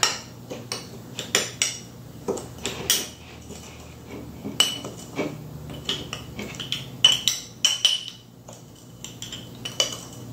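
A spoon clinks and scrapes irregularly against a bowl while stirring, close by, with short metallic taps and pauses.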